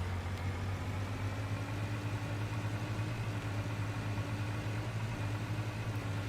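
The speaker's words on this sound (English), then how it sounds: "it sounds like a diesel motor" Diesel truck engine in the Cabela's Alaskan Adventures video game, a steady low idling drone with a constant hum, moderately quiet and unchanging throughout with no talk.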